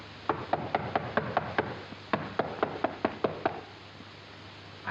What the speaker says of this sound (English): I think I ought to knock louder